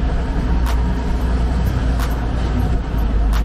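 An old German fire engine driving in first gear, a loud steady low engine drone with continuous road rumble and a few faint ticks, no speech.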